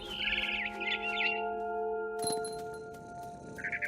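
A barn swallow in the video game What Remains of Edith Finch gives quick bursts of high chirps and twitters at the start and again briefly at the end, set against sustained musical tones and a bright chime.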